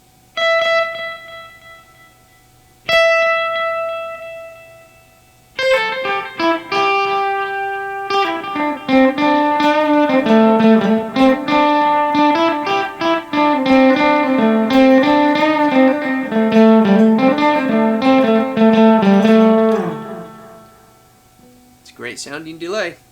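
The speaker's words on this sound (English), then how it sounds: "Plexi Echo. This is a tape-style delay at 1/3 of a second." Electric guitar played through a Boss DD-500 Plexi Echo tape-style delay preset set to a third of a second, with single plucked notes and then a flowing melodic line, each note trailing repeating echoes that fade after the playing stops.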